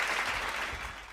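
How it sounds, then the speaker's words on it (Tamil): Church congregation clapping hands together during a Tamil Sunday service, a dense, steady burst of applause lasting about a second with no speech over it. "கைத்தட்டுங்க"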